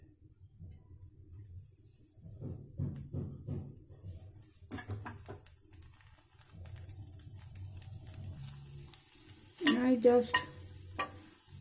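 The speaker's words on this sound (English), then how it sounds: "saute it, not properly cook." Moringa leaves and green chili sautéing in a pan give a soft stirring rustle with faint sizzle, with a few brief utensil scrapes and clinks, a short spoken phrase, and a sharper clatter near the end.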